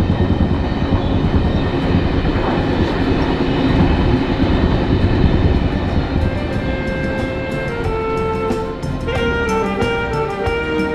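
Van Gölü Express passenger train running steadily with a continuous loud rumble and rattling wheels, joined by higher tonal squeals and clatter in the second half; no talk.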